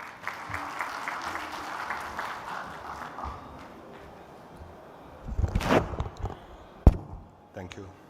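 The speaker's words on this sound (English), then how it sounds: "with a huge round of applause, please join me in welcoming the President and Group CTO Mobility of Reliance Jio" Applause at an AI summit in India as a telecom executive is welcomed on stage, a broad wash of clapping that fades out over several seconds, followed by a few thumps and footsteps.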